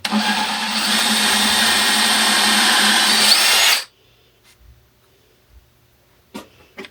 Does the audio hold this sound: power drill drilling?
yes